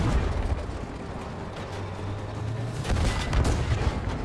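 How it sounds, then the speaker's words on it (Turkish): Explosion in the World War II shooter Battlefield 5 during tank combat, a dense roaring blast with rumbling low end that swells again near the end, with continuous battle noise and no voices. "Aha bu da patladı."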